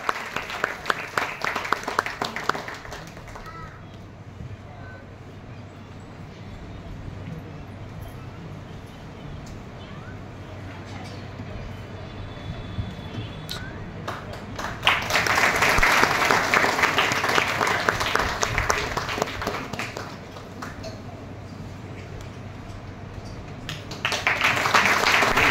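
Applause for award recipients at the Anubhav Ratna award ceremony, a crowd clapping in bursts that swell loudly mid-way and again at the end, with a voice over a speaker system in between.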